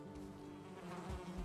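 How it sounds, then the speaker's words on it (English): A swarm of bees drones continuously in the survival video game Valheim, a dense, steady buzz that fills the whole moment without speech. "I fucking died to bees"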